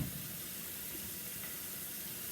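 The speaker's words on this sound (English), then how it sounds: "I'm going to let the cold water run on top of it." Cold tap water runs steadily over cooked farro in a kitchen, a continuous close hiss and splash with no talking.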